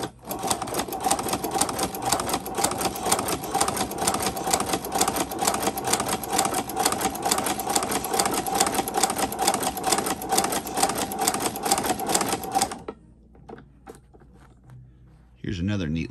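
A cheap walking foot cobbler sewing machine runs steadily for about thirteen seconds, a loud, dense rapid rhythmic clatter, then stops, leaving faint mechanical clicks and a short burst of motor hum at the end.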